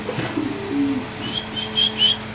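Large-size pigeons at a pigeon seller's make a low, soft coo followed by a few thin, high calls, all close by and with no one speaking.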